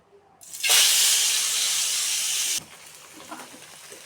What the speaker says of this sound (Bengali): এখন আমি এক এক করে মাছগুলো দিয়ে দিব